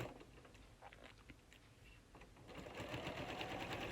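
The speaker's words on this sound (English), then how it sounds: "sew together from the top" A sewing machine stitches a quarter-inch seam through fabric, starting with faint scattered clicks and picking up into a steady, faster mechanical whirr over the last part.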